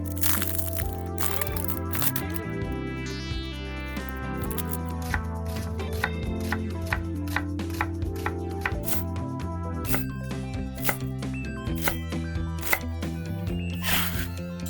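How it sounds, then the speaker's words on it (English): A medium onion is chopped on a board in a steady series of sharp knife taps and crunches, close and distinct, with music playing underneath. "chop up 1 medium onion and toss it right in"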